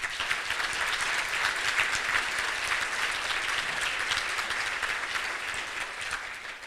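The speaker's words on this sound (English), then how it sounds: "Let's give them a round of applause" Steady, even applause from an audience at a Rotary Club meeting, many hands clapping at a constant level throughout with no voices standing out.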